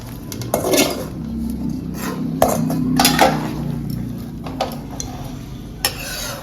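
Prawns go into a pan and are stirred for a Bengali prawn curry: sharp metallic clanks of a spoon against the pan come in scattered bursts over a low, steady sizzle.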